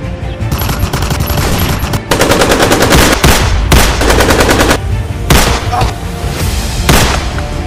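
Loud, close machine gun fire in sustained rapid bursts with short gaps, heavy booming reports ringing throughout.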